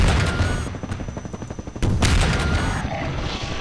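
Rockets fired from drones in Garry's Mod burst loudly with rapid rattling detonations, a brief dip and then another heavy explosive blast that keeps rumbling close.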